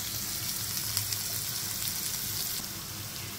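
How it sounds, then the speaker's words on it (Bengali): Chopped onion and green chili frying in a pan with salt, a dense, continuous sizzle and crackle held at an even, close level throughout with no voices. "এটা এখন ভাজতেছি আমি। ভাজতে ভাজতে এটা লাল হয়ে যাবে।"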